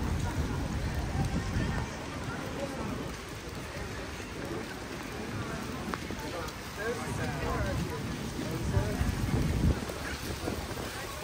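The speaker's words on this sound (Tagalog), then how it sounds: "Malakas na talaga yung ulan." Heavy rain falling on a Paris street, a dense, continuous hiss and patter with gusty wind buffeting the microphone, steady and loud throughout, while a person talks intermittently under it.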